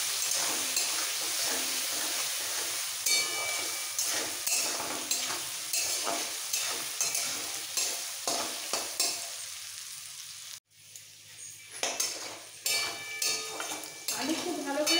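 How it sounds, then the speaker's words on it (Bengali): Potatoes frying in oil with a little red chili powder, giving a continuous sizzle broken by repeated stirring scrapes and clinks of utensil on pan, and one brief drop-out near the end. "আলুগুলো ভেজে নিতে হবে।"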